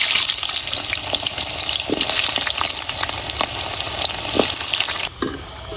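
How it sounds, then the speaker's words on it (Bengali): Large potato chunks frying in oil for a country chicken biryani; a continuous loud sizzle and crackle with occasional stirring clicks, briefly dipping near the end. "এখন এই তেলের মধ্যেই আমি কয়েকটা আলু নিছি, বড় বড় টুকরা করে কাটতে নিছি, এরকম এডি ভাজা নিয়াম।"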